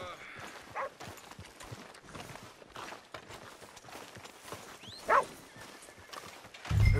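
Horse hooves clip-clop on a street in the video game Red Dead Redemption 2, a light rhythmic patter of steps at moderate distance with faint voices and game ambience around them.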